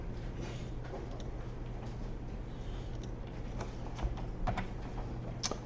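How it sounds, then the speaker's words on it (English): Keys clatter on a computer keyboard while an IP address is entered during a network DNS configuration task: scattered, fairly faint keystrokes with a few sharper clicks, over a steady low hum and no talking. "Sorry, I'm typing that in the wrong place."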